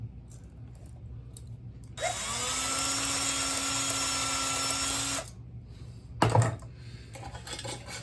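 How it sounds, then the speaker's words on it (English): A power tool reams out a hole in a Marx toy boxcar, a steady high-pitched drilling whine running for about three seconds, followed by a brief clatter; fairly close, with no talking. "Let's just ream that hole out just a touch."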